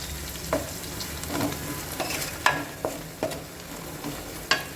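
Curry leaves sputtering in hot oil for egg fried rice, a dense sizzle broken by several sharp pops and crackles at irregular intervals, close and with no one talking.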